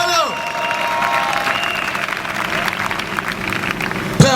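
A church congregation applauds and cheers at a revival service, dense sustained clapping and shouting filling the space, with a loud burst near the end.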